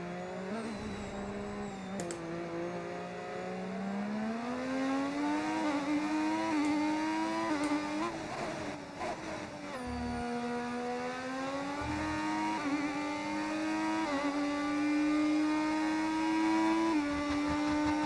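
Formula 1 race car engines from the F1 25 racing game, altered by a sound mod, whine continuously with rising and falling revs through gear changes, loud and steady throughout.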